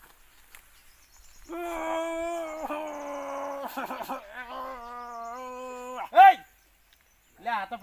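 A man imitates a dog with a drawn-out, howling vocal, rising and wavering over several seconds, then breaks into a short yelping bark and a last brief cry, loud and close in a Gujarati comedy skit.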